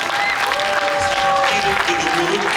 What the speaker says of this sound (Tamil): இங்கே எங்களுடைய கரகோஷங்களை குறித்து அவர்களை உற்சாகப்படுத்துங்கள்